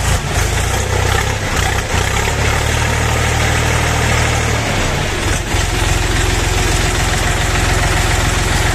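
A mini tractor's small diesel engine idles steadily and loudly, a constant low chugging throb with mechanical rattle and no voices.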